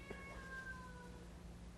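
A four-month-old domestic shorthair kitten gives a single short, faint meow near the start, followed by a quiet drawn-out call over a low steady background hum.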